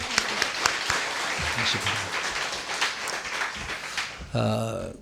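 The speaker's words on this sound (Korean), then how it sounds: "네, 박수로" A church congregation claps during a Sunday service, a dense broadband patter lasting about four seconds before fading, followed by a voice speaking.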